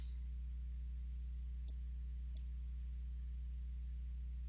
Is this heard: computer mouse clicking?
yes